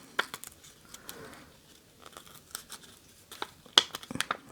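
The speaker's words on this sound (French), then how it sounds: "déchirer mon papier comme ça tout autour" Paper is torn by hand in short, irregular rips around its edge to make a rough decorative border for a card, the crisp tearing bursts arriving close and intermittently with quiet gaps between.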